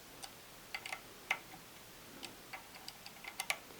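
Small screws on a ZEQ25 telescope mount being tightened one after another, producing faint, sparse metallic ticks and clicks at irregular intervals against a quiet background.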